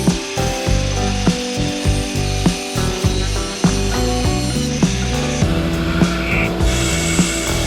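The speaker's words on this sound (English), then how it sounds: "we'll see if we can actually drill the thing" Loud, close mechanical grinding of a drill working into a metal part of a VW Split Window Bus during restoration, with a steady whine and a rhythmic ratcheting clatter.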